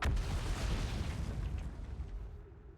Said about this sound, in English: Where'd the explosion come from?